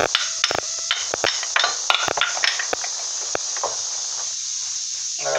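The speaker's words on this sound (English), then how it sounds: "I can get the good old little hammer out, beat them off since you ain't gonna reuse them" A small hammer beats on the front brake rotors of a 2000 Dodge Durango, giving a run of sharp metallic strikes with irregular spacing under a steady background hiss, then a few sparser blows.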